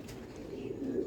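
A breeder pigeon gives a brief low coo near the microphone, a soft throaty murmur lasting about a second over faint background noise.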